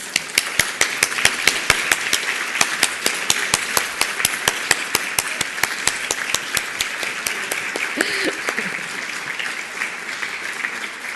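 An audience at an evening plenary and closing session of a 2015 conference applauds; loud, close individual claps stand out sharply above a dense crowd wash, continuing steadily for the whole span with no speech.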